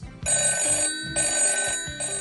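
A telephone rings in repeated electronic bursts, two clear rings with short pauses between, crisp and close with nothing else heard.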